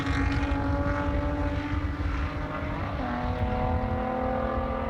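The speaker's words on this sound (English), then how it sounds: "Sound of that Nissan just singing underneath our voices here on the broadcast" Nissan race car at the SCCA Runoffs in the Touring 3 class, its engine buzzing steadily at high revs around the circuit, a continuous loud drone with a slight shift in pitch partway through.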